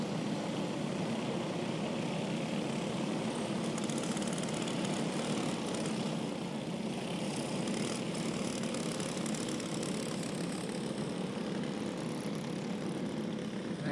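A racing kart engine with a throttle fault drones steadily and evenly at Atwater Karting Speedway, a continuous buzzing hum at moderate distance with no voices over it.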